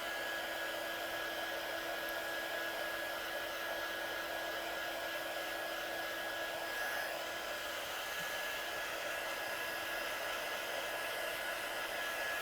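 A heat tool blows hot air to dry damp ink on a paper craft piece, producing a steady, even drone like a hair dryer that continues throughout at a constant level.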